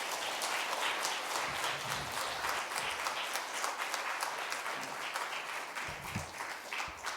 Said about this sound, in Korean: 뜨거운 박수로 우리 목사님 맞이하겠습니다.